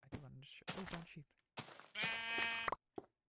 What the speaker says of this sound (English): oh, brown sheep